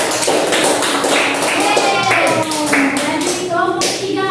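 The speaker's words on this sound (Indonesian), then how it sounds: "Oke, tepuk tangan." In a classroom, a small group of students claps in uneven bursts, close and fairly loud, with some light taps and stray voices mixed in over about four seconds.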